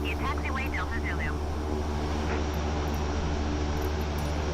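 A Carenado PC-12 turboprop taxis to parking in a flight simulator, its steady engine hum and whine constant throughout, while a radio-style voice talks over it.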